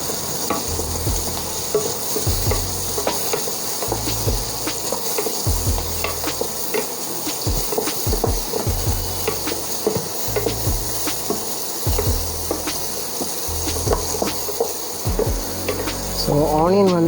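Finely chopped onion sautés in a pan for white sauce pasta, with loud, close sizzling and repeated scraping stirs in an uneven rhythm throughout.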